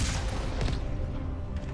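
The cannon on an armored vehicle fires in Mass Effect 1 Legendary Edition. It gives a loud, booming blast at the start, another burst shortly after, and a rumbling tail that fades out.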